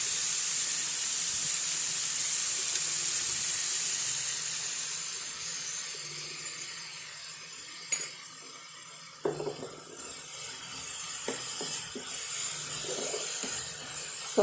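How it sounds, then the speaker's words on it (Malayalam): Sliced onions fry in oil in a pan for a coconut chicken curry, a soft, steady sizzle that is faint and close, fading midway before a few light clinks of utensils. "എന്നിട്ട് നല്ല സോഫ്റ്റായിട്ട് വറുത്തെടുക്കണം"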